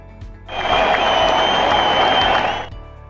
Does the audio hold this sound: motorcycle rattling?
no